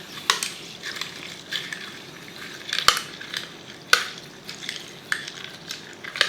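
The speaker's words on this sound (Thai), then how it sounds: "คนผสมให้เข้ากันก่อนเลย" A spoon stirs cendol, a dessert of pandan noodles with coconut milk, syrup and jackfruit, in a bowl, making light clinks and sharp taps against the side at irregular intervals.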